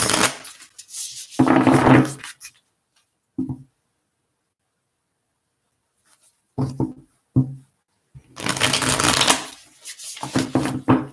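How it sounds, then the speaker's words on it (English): Tarot cards are shuffled close up in several separate bursts of crisp riffling and flicking, with silent pauses between them and no speech. "Just a few more shuffles here, and then we're going to get straight into it."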